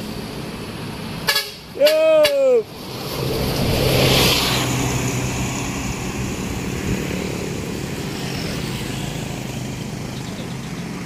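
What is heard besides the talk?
Volvo B11R bus honking and passing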